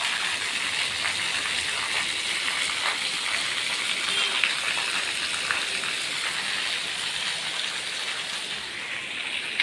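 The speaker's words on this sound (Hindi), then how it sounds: "इतनी बहुत सारी बारिश हो रही है" Heavy rain pours steadily, a dense continuous hiss with scattered drops striking nearby surfaces, no voices.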